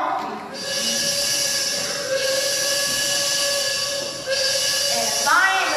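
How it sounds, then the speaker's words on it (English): A train arrives as a sound effect in a school Christmas stage musical: sustained whistle tones ride over rolling rail rumble for several seconds, with a fresh blast near the end. "And if I ain't mistaken, that would be the last train to Incarnation tonight"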